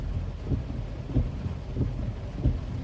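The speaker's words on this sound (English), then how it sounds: "Thomas says, I wish this rain could come to California." Heavy rain pours steadily during a thunderstorm in Petersburg, Virginia, amid flash flooding, with low rumbles of thunder swelling about every second and a quarter under the constant wash of rain.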